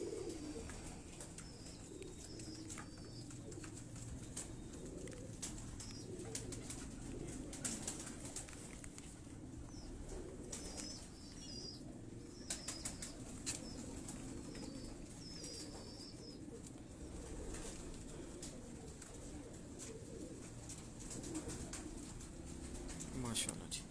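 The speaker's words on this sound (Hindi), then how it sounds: "ये आप कबूतर देखिए जी" Pigeons on a rooftop coo softly and steadily at a moderate distance, with occasional wing flaps and faint chirps over a low background hum.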